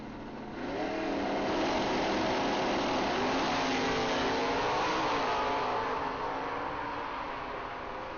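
Loud engines of drag race cars, including an automatic '88 Oldsmobile, roar continuously as they accelerate hard, a rising mechanical drone that holds steady throughout with no voices.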